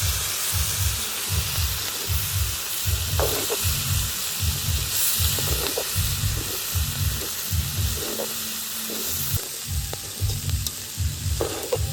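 Chickpea sundal with added cabbage frying in a pan, a steady loud sizzle broken by regular scraping strokes of a spoon stirring and turning it over, with no talk.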